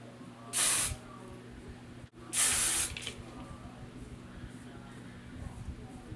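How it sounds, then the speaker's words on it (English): Two short hissing bursts of aerosol hairspray, close and crisp, followed by quiet background hum. "Just gonna spray some of these baby hairs back."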